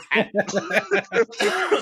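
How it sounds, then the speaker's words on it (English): A rapid series of harsh, close coughs with a voiced, throaty quality, closing in a rougher strained cough. "You're coughing up a lot."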